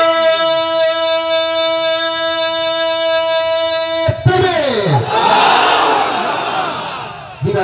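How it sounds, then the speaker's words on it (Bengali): Married men in a crowd at an Islamic sermon gathering roar the takbir "Allahu Akbar" together. A long sustained chanted voice comes first, then a loud, dense burst of many voices erupts midway and carries on to the end. "বিবাহিত ভাইরা তাকবীর দিয়েছে"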